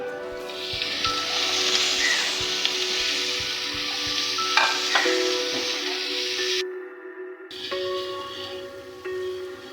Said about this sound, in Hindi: तो ये देखिए इसको मैं फ्राई कर रही हूँ चिकन के रेशे को।